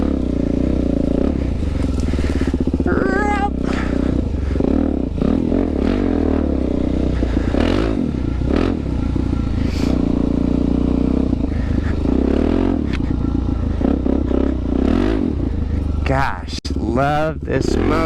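A Suzuki DRZ400 dirt bike ridden off-road on aftermarket tires, its engine droning loud and close throughout with revving surges and clattering over rough ground, while a rider talks over it.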